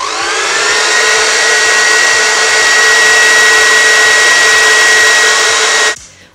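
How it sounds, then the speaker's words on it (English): A handheld hair dryer blows steadily on hair while a low bun is styled, a loud, constant whooshing hum that runs unbroken for about six seconds and then cuts off. "just go back in with the hairdryer"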